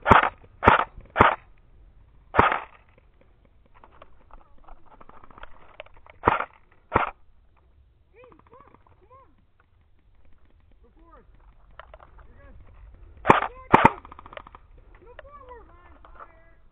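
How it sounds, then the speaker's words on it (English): Airsoft guns fire during an outdoor airsoft game in sharp, close clusters of snapping shots with quiet gaps between them, while players talk faintly in the background. "Is this an airsoft game?"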